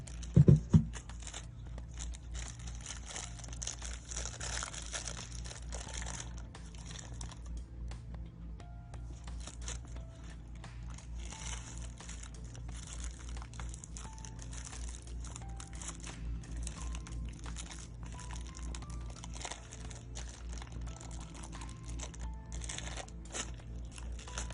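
Plastic packaging around a wireless tattoo pen being opened by hand, with irregular close crinkles and crackles throughout, a sharp loud crunch at the very start, and quieter rustling stretches in between.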